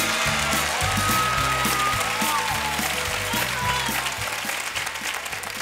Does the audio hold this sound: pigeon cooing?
no